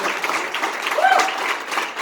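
A crowd gives an ovation at a Tom Steyer event, a brief burst of moderately loud applause that holds steady before easing off, with some faint voices mixed into the clapping.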